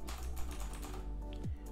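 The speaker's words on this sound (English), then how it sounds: "And then start typing something." Keystrokes on a computer keyboard while text is entered into a resume document, a steady run of soft clicks close by, with a low background hum and no voices.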